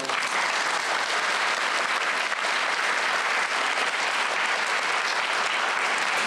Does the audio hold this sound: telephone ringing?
no